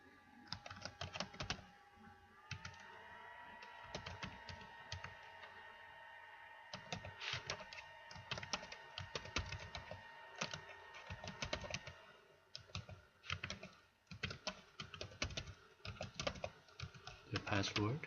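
Quick clicks of a computer keyboard as someone types into a registration form, moderately close, with irregular bursts of keystrokes over a steady background hum.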